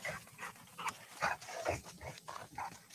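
A pet dog, a pit bull or blue heeler, pants rhythmically nearby, quick soft huffs repeating several times over a few seconds at low volume, with no talk over it.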